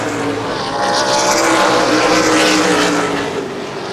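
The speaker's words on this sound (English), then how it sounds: "Fisher Jr. now on the back bumper of Quinlan for the top spot" Late model race cars roar around a paved oval speedway in a loud, sustained engine drone that swells mid-pass and eases slightly as the pack moves by.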